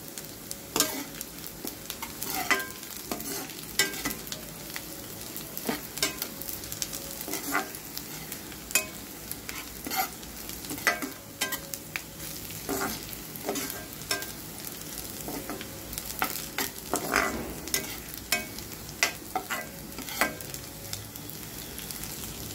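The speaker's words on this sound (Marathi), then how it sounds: "तेल टाकून परत कांदा ब्राऊन होतपर्यंत भाजून घ्या।" Onions fry in oil in a pan until brown, with a steady sizzle throughout. Frequent scraping and tapping from a stirring utensil recurs at an irregular rhythm, close and moderately loud, and no one speaks.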